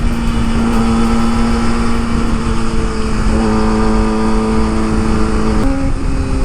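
Kawasaki ZX25R motorcycle with an Akrapovic exhaust, its loud steady engine whine stepping through a couple of downshifts, the revs jumping with each gear change, close and continuous with no talk.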